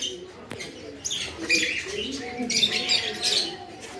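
Pigeons at a park in Goa coo among the chirps and calls of other birds, moderately loud and close, with bursts of higher twittering through the four seconds.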